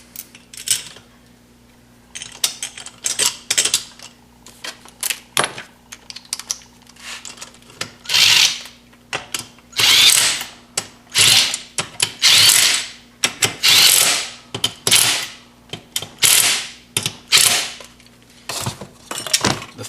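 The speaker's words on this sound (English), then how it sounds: "Put the 4 bolts back in." Bolts are put back into a Devilbiss single-cylinder air compressor during a rebuild, giving close, intermittent clusters of metallic ratcheting and clicking with brief pauses between turns.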